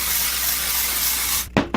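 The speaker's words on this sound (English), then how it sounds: "dry shampoo will completely fix that. Like straight up, just spray your whole wig" A long continuous aerosol spray of dry shampoo onto a wig hisses up close, then stops, followed by two quick short bursts.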